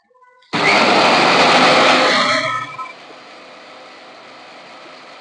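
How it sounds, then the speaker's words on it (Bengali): A kitchen mixer grinder blends coconut chutney paste, a loud dense whirring roar starting abruptly, holding for about two seconds, then dropping to a quieter steady hum as the motor winds down. "এবারে এটাকে আমি মিক্সিতে দেখো মিক্সির সাহায্যে পেস্ট করে নিচ্ছি।"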